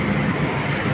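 A Hong Kong metro train rumbles at a station platform, a loud steady low roar with wheel noise, briefly filling the space with no voices.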